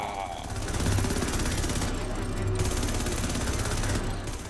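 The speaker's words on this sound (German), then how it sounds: "Hab sie, die Kanonen funktionieren gut." Rapid cannon fire from a Hawk mech in the sci-fi game Starhawk, a dense continuous rattle of shots over engine hum, steady and fairly loud throughout.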